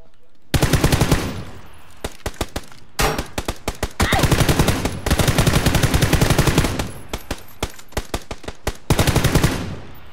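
Rapid automatic gunfire rattles through a video game match in long, loud bursts of tightly spaced shots, broken by brief pauses and a few sharper single cracks.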